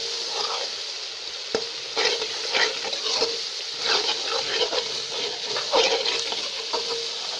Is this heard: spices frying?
yes